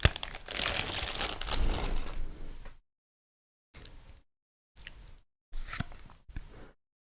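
New game cards being handled, crisp crinkling and rustling of packaging for a few seconds, then several short soft bursts of shuffling separated by silence.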